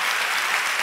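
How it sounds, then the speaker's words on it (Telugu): A church congregation claps during a Telugu sermon, making a brief, steady burst of dense applause from many hands with no speech over it. "చప్పట్లు కొట్టి దేవుని మయంపరుచుకో."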